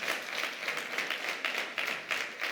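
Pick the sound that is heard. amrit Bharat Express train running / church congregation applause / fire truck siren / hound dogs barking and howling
church congregation applause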